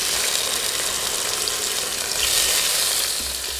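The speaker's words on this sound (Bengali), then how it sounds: "এখন গরম করে নেওয়া তেলে টমেটোগুলো দিয়ে দিব।" Ripe chopped tomatoes hit hot oil in a pan for a Bengali tomato tok, giving a bright, hissing sizzle that stays loud and even for a few seconds with no voices.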